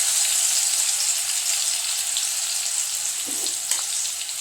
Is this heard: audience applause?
no